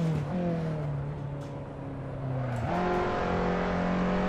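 Race car engine in Assetto Corsa played in VR, a steady loud drone that holds pitch, drops slightly, then rises sharply as the engine revs up near the end, with no talk over it.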